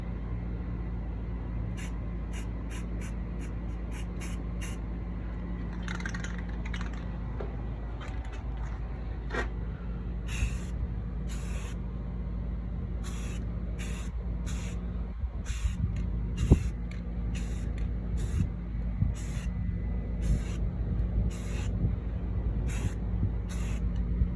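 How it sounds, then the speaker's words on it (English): A can of paint-and-primer hisses in repeated short bursts onto an old surfboard over a steady low background rumble, the sprays close and evenly spaced. "And just give it a light spray."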